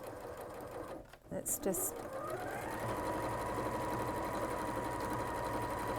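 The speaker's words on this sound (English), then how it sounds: "we're just going to machine tack along this edge here just to hold those edges together" A sewing machine runs steadily for several seconds, machine-tacking along a fabric edge within the seam allowance to hold the edges together, with brief clattering starts and a person speaking over it at the beginning.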